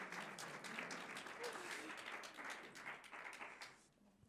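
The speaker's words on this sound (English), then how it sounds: "big round of applause" An audience applauds an award winner, Anna Heringer, called on stage for a global architecture award. The dense, steady clapping fills the room and fades toward the end.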